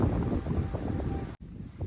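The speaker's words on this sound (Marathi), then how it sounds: "वारा सुटलेला आहे भरपूर" Strong wind buffets the microphone outdoors, a steady low rumbling roar that drops out briefly near the end before resuming.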